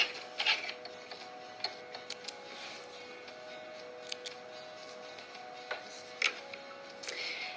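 A sewing machine runs a seam at a 2.5 mm stitch length, with a steady faint mechanical whir broken by small clicks and ticks. No one talks over it.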